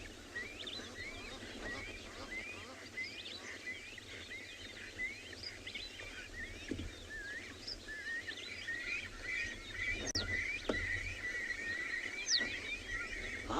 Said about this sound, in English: there's beautiful bird calls around here as well